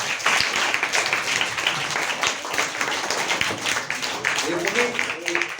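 An audience claps together at a Hindi motivational speech, dense continuous applause with scattered sharper claps, fairly loud and steady, with some voices and a brief tonal sound near the end.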